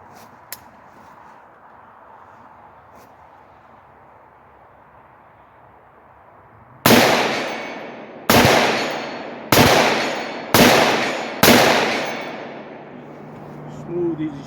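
Five sharp rifle shots from a 7.5 inch AR-style rifle fired outdoors at 100 yards, loud and evenly spaced about a second apart, each ringing off with a short decay after a quiet stretch of background noise.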